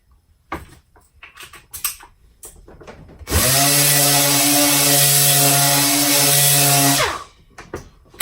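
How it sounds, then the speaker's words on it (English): A Dynabrade air-powered random orbital sander starts after a few light taps and clicks, then runs for about four seconds with a loud, steady high whine before spinning down. "While the sanding technique was fine"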